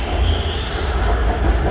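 A steady, loud rumble of an elevated BTS metro train close by at Phrom Phong station in Bangkok, with deep low-end roar and a faint high whine over it, and no talking.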